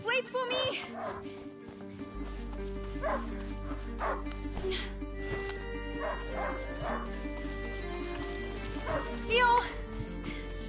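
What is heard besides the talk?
dog barking in the video game A Plague Tale: Innocence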